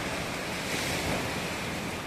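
Strong typhoon wind roars through Iloilo City in the Philippines, a dense, steady rushing blast with heavy buffeting on the microphone, loud and unbroken throughout.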